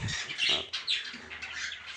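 Caged pet birds let out several sharp, close squawks in quick succession, bright harsh calls that overlap within about two seconds.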